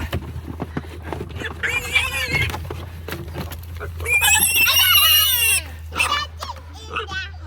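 A pig being pushed through a farm gate squeals in loud, shrill bursts, with people talking close by throughout and a louder squealing stretch near the middle.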